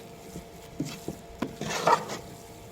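Gram flour roasting in a pan while a spoon stirs it, making soft, intermittent scrapes and light knocks against the pan that grow a little busier toward the end, with no talking.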